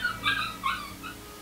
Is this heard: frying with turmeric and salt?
no